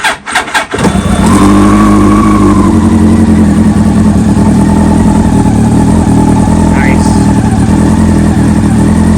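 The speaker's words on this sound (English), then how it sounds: "give her a good choke, and we'll fire her up." A Yamaha R1 sport motorcycle cranks briefly and fires up loud and close, then settles into a steady, throbbing idle that runs to the end.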